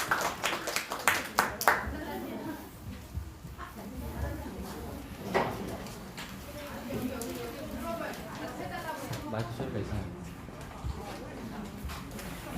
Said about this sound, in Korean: 큰 박수를 맞이해 주세요.